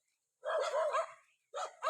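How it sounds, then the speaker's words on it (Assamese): A dog barks in two bursts by a riverbank, the first a longer string of close, fairly loud yelping barks, then a short pause before a second pair of barks. "কুকুৰ"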